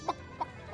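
Cartoon chicken clucking from the animated film Kung Fu Panda 3 gives two or three short, soft clucks spaced evenly, faint and playing alone.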